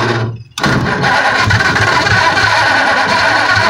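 A 1927 Ford Model T hot rod engine cranks and catches, then runs loud and close at a steady rough idle.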